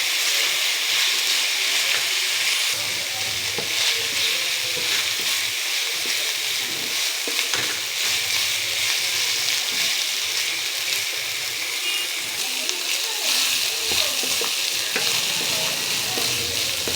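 Keema, minced meat cooked with spices in a pan, sizzles and fries steadily while being stirred, a loud continuous hiss with scraping strokes throughout and no talking.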